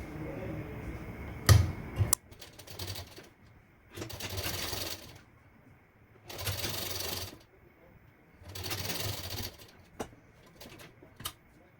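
Sewing machine stitching a princess-cut blouse, running in four or five distinct rapid bursts separated by quiet pauses, with a sharp click or two between runs.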